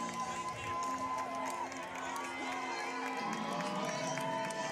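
Steady crowd noise fills a high school football stadium as Rockets fans cheer on, a broad sustained roar with a tonal music line running through it and some talk mixed in.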